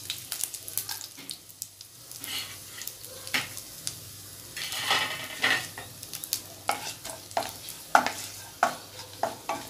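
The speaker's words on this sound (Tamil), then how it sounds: "ஆயில் நல்லா சூடாயிருச்சு இப்போ நம்ம அதில் வந்து கடுகு நமக்கு போட்டுக்கலாம் காஞ்ச மிளகா பிடிச்சி போட்டுக்கலாம்" Mustard seeds and dried red chillies frying in hot oil in a pan, with crackling sizzle and irregular popping bursts throughout alongside stirring sounds.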